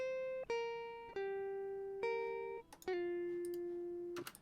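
A dry electric guitar with no amp simulation plays a slow sequence of single plucked notes, each decaying cleanly, fairly quiet and alone with faint pick clicks between them.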